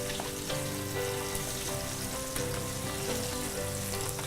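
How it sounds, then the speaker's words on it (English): Food frying in a pan gives a steady, close sizzle with faint crackles and occasional stirring, continuous and alone without talk. "as you hear it love that sizzling, sound"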